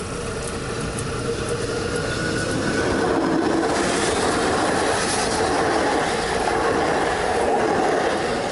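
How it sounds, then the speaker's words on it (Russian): A train passes on a French railway line with arched overhead-line supports, a steady loud rumble and rush of wheels on rails filling the whole stretch, with faint rhythmic clacking and no voices. "А вот и поезд."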